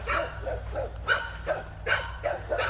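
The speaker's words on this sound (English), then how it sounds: "bunch of doggies over there" Several dogs barking in short, repeated yaps and bow-wows, fairly close, coming in an uneven rhythm over a low background hum.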